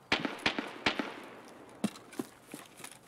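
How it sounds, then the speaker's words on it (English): Sniper scav gunfire in Escape From Tarkov: a string of sharp, echoing reports, about eight spaced irregularly over three seconds, moderately loud with a reverberant tail and no talk. "doesn't that sound like it's a sniper scav?"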